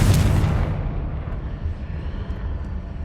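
Confringo blasting curse explosion in the Hogwarts Legacy game, a loud sudden boom at the start that decays into a low rumbling tail.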